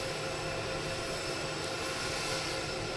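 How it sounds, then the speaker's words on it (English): Air Force One, the presidential jet, runs its engines after arriving in Palm Beach, Florida, a steady, loud broadband roar and whine that holds throughout. "President Trump should be leaving the plane shortly"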